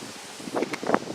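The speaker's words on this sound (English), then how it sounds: "Just look at the wind. It's much too windy to discuss about this today." Gusts of wind buffet the microphone in short rumbling bursts, with a rustling, blustery texture and no voices.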